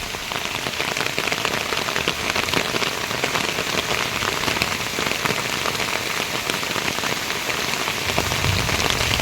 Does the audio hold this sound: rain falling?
yes